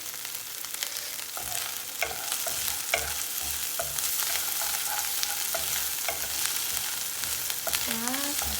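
Ginger garlic paste sizzles steadily as it fries in a pan for a chicken dish, with a continuous hiss broken by occasional spoon scrapes and stirring knocks, close and without voices.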